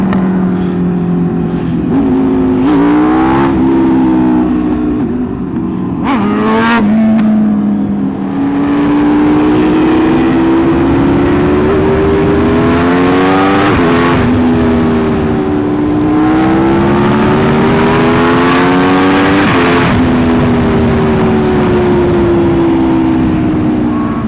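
Motorcycle engines in a large group ride of over 100 bikers rev loudly and repeatedly, pitch climbing and dropping in surges, with a few sharp bangs early on; close and continuous throughout.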